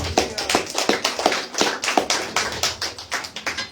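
A church congregation claps in steady rhythm for Christ, roughly three sharp hand claps per second, loud and close, with no talking over it.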